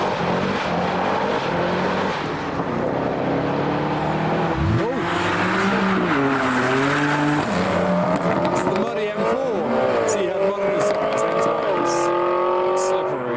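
A supercharged Chevrolet Camaro police car drives near the Nürburgring, its engine note rising and falling through gear changes with rising whines and a brief tire squeal, while a voice talks over it.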